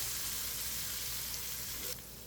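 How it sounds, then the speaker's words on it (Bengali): Egg curry sizzles steadily in a pan after turmeric and dried chili powder go in, a continuous close frying hiss that shifts slightly near the end. "দিয়ে আমি এটাকে আবার আর একটু কষিয়ে নেব সুন্দর করে।"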